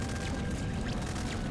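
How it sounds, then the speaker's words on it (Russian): Explosion of a generator in the video game Nuclear Throne: a steady, dense low boom with crackling debris-like noise running through the whole short stretch, loud and continuous with no talk. "Генераторы, кстати, взрываются"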